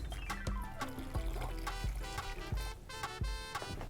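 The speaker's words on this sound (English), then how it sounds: "We're going to fill this with water to just barely cover the top." Water poured into a pot over dried chilies, garlic and onions for birria, a steady trickling pour lasting throughout, close and fairly loud with clinks and splashes, no talking.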